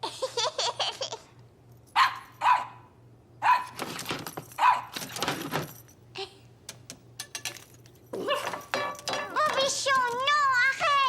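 Small cartoon dog Bobichon barking in short yappy bursts spread through the scene, with laughter and voices in between and over the barks.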